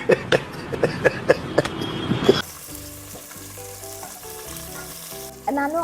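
Curry leaves dropped into frying onions in a pan crackle with sharp, repeated pops for about two seconds, then settle into a quieter sizzle under background music.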